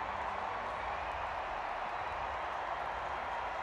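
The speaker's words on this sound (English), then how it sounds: "And he's getting a great reception from the crowd." A large stadium crowd applauds and cheers a runner in the men's 5000m T12 final at the London 2012 Paralympics, a steady, dense roar of clapping that holds evenly throughout.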